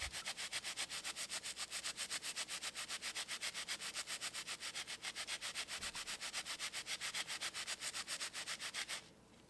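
Toner resist is scrubbed off a metal plate etched in ferric nitrate with fast, steady back-and-forth rubbing strokes. The strokes are close and even and continue almost the whole time before stopping abruptly at the end.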